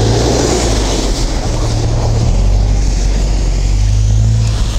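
An off-road 4x4 drives a muddy, snowy road at about plus six degrees with all-terrain tyres. Its engine drones loud and close, shifting pitch as it strains, over a constant rumble and no speech.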